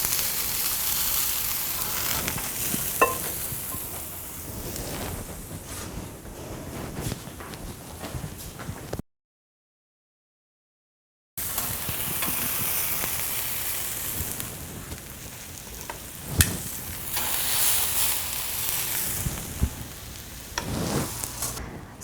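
Hanger steak in a Peruvian chili marinade sizzles on a charcoal grill, a steady hissing crackle with a few sharper taps, broken by a short silence partway through.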